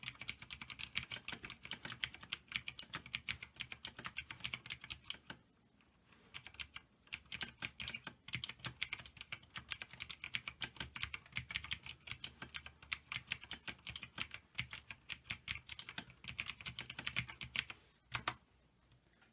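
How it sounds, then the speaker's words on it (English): Fast typing on a Razer BlackWidow TE TKL keyboard gives close, crisp clicking in rapid bursts, with brief pauses near the middle and the end. "So this is the Razer Black Widow TE-TKL."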